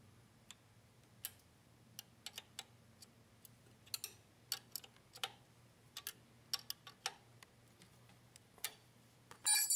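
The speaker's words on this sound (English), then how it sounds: "I'm going to take my toolkit and use a 12mm wrench," A 12mm wrench tightens a rod end nut on a StreetStrider, giving a run of sharp, irregular metallic ticks and clicks, close but soft, over a low steady hum.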